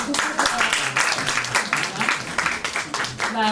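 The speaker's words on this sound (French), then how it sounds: "Shirley Soignon, sous vos applaudissements" Applause from a seated audience welcoming a performer to the stage, a quick, uneven patter of hands that runs for a few seconds with talk mixed over it.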